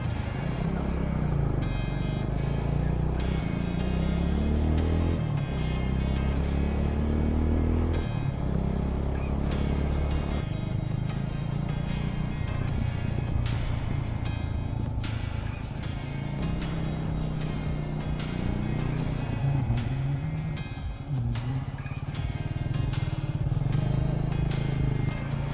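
A motorcycle rides toward Sundarijal near Kathmandu, its engine close and loud, revving up and down through gear changes, with occasional clicks and rattles.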